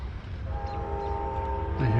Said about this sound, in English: It must be a northbound train.